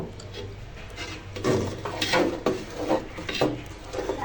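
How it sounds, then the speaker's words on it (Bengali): Milk being stirred steadily in a pot for Bengali payesh, a spoon scraping and clinking in an uneven rhythm of soft knocks and scrapes, close and fairly quiet, with no talking. "এটাকে এখন ভালো করে অনবরত নাড়তে হবে দুধটা ঘন হয়ে যাওয়া পর্যন্ত"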